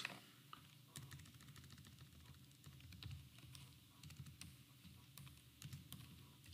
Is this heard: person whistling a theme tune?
no